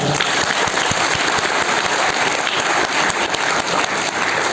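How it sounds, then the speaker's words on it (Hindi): Loud, thick applause from a large audience at a motivational business seminar in India, sharp overlapping claps forming an even, continuous roar for several seconds with no speech. "मैं चाहूंगा ऊपर वाले के लिए एक बार जोरदार ताली।"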